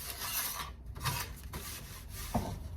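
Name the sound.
rubbing car metal panel with Scotch-Brite pad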